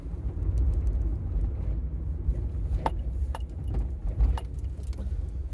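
A learner driver's car passes on a road, a steady low engine and tyre rumble filling the background with a few light clicks and rattles on top, heard alone without talk.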